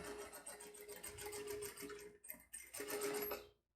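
An overlock sewing machine stitches fabric while a skirt is being sewn, a dense rapid whirring hum that runs steadily, breaks off briefly twice near the end, then resumes before stopping.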